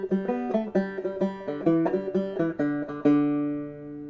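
Clawhammer banjo picks out the first bar of the solo from the Irish pub song All For Me Grog, a quick run of bright plucked notes with steady drone, ringing out alone at the end.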